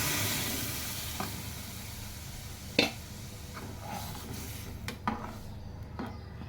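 Sizzling in a pot as cooked dal is poured into hot tempering for a sweet and sour drumstick amti, a steady soft hiss with a few sharp clatters and knocks, close but faint, and no talking.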